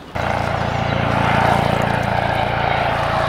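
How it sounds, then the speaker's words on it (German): A police helicopter's loud, steady engine drone with a low pulsing rotor thrum overhead during a search along the Danube, continuous throughout with no voices. "So wie es ausschaut, kommt der Helikopter jetzt retour von der Polizei."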